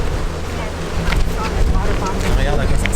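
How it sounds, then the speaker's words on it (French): Strong gusting wind on the Hickman Bridge hike in Capitol Reef, buffeting the microphone with a loud, continuous low roar that swells and eases. "Je sais pas si vous entendez, mais ça souffle pas mal là."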